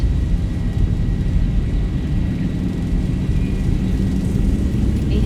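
Boeing 737 engines spooled up to takeoff thrust in X-Plane 12, a steady loud low roar and rumble with a faint high whine, continuous and unbroken as the jet rolls down the runway.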